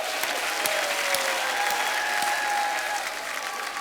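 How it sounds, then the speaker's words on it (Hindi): Studio audience at a Hindi comedy talk show gives steady, enthusiastic applause, a dense wash of many hands clapping at even loudness for several seconds. "जोरदार तालियां हो जाएं"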